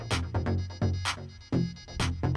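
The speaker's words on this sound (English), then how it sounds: "it's only playing one note, so it's a really rhythmical sound, and it just kind of sounds like some variation of a sawtooth wave" A one-note synthesizer with a sawtooth-like buzzy tone pulses in a steady rhythmic pattern, its repeated hits punchy and bright, played alone without any voices.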